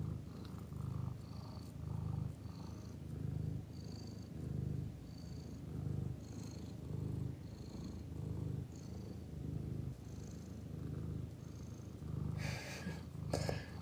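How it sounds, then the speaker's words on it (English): A cat purrs close and soft in slow, even rhythmic cycles, each breath a low rumbling swell, with a few faint light noises near the end. "You're putting people to sleep with your purring."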